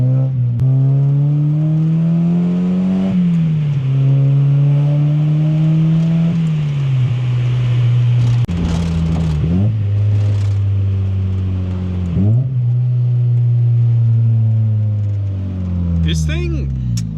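Mazda Miata driving, its engine humming steadily and rising in pitch through several gear pulls with shift drops, close and loud from start to finish, with a voice talking faintly beneath.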